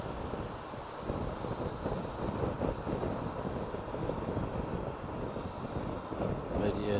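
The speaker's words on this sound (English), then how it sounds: "I don't know if you can hear that wind gusting." Wind gusts on a two-up motorcycle camping trip in rainy Florida, making a continuous broad, buffeting roar against the microphone with rumbling surges and no clear breaks.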